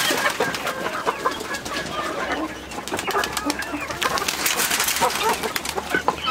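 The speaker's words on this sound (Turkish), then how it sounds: "Bayağı da güvercin varmış ya." Pigeons feeding among chickens, with soft cooing and clucking mixed with a quick series of wing flaps and pecking, close and busy throughout.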